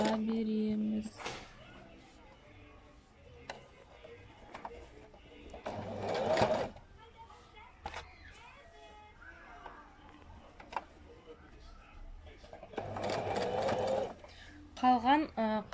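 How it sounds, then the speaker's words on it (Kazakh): A sewing machine stitches a rug made from old t-shirts at home, running in two short loud bursts between stretches of handling sounds while someone talks throughout. "Осылай қойып, қатарынан тігіп шыға береміз."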